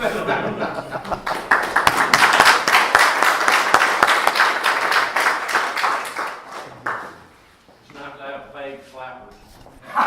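Audience applause at a company president's talk to a PBA gathering, sustained dense clapping from a crowd that swells for several seconds then fades, followed by someone speaking.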